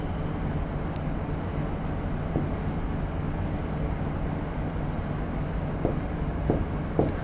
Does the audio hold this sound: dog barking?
no